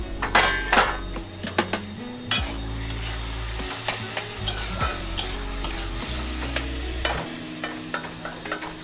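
A lid comes off a pot of lau shukto, a Bengali bottle gourd stew, followed by close metal spoon scraping and clanking against the pot over a soft simmering sizzle. No one speaks.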